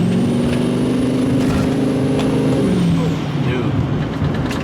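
A Duramax diesel pickup with new head gaskets accelerates under light throttle, its loud close engine drone and rising turbo whine holding steady, then dropping in pitch as it shifts near the end.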